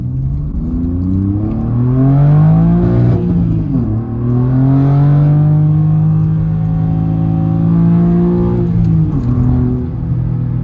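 A BMW M4 G82 with a Remus exhaust and sport muffler revs up and down twice in sport mode, a deep throaty engine note rising in pitch then dropping, loud and close.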